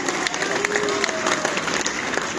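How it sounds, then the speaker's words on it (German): Audience applause at a cosplay catwalk event in Munich, a dense steady clapping from a crowd lasting the whole moment without a break. "ein Applaus bitte für die Jury"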